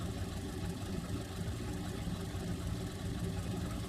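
A locomotive engine in the Trainz 2019 game runs with the throttle pushed fully forward, giving a steady, dense mechanical drone that holds constant throughout.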